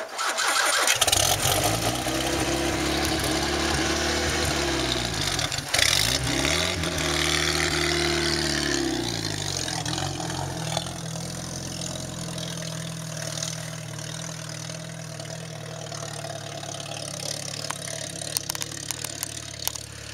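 An old Buick running without a muffler or radiator cranks over and catches, its harsh, loud unmuffled engine revving up and down before settling into a rough, steady idle close by.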